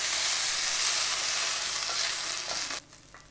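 Chicken fries in a pan with a loud, dense, continuous sizzle that cuts off abruptly near the end, leaving quieter background.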